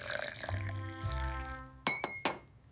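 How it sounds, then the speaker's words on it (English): Ceramic cups clink twice, sharp and close, while coffee is made in a home kitchen, following a softer low rumble of pouring or handling. "I make coffee."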